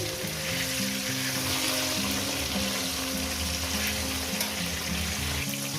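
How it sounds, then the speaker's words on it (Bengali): Catla fish pieces fry in hot oil, a dense, steady sizzle and crackle close by with a low background hum, continuous and without talk. "তো বন্ধুরা আমার মাছটা ভাজা হয়ে গেছে আর এই মাছটা এবার তুলে নেব"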